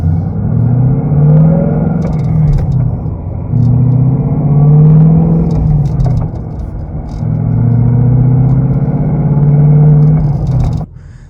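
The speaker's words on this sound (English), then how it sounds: "The clutch pedal makes a noise." A new 2020 Mustang GT is driven through its gears: the engine note climbs in three long pulls, with brief dips and small clicks where the clutch and shifter work between them. The sound is loud and close, with no talk.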